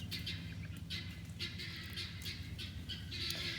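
Pet birds, likely chickens, foraging close by in raked soil near a house in fall, giving a few soft scattered squawks and chirps over a low steady rumble of background noise, with no talking.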